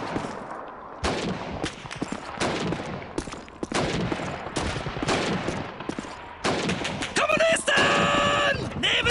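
Call of Duty 2 battle gunfire on PC, Soviet troops against Germans: sharp, loud rifle and machine-gun shots at irregular intervals, with shouting voices and a rising whine near the end.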